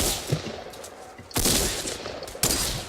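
Gunfire in the video game Fortnite, a sharp burst of shots at about 1.3 seconds and another near 2.4 seconds over a busy game soundscape, with smaller reports between.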